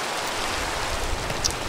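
Steady rain falling outside a house, a dense even hiss of drops with no clear gaps, moderately loud and close, with no voices over it.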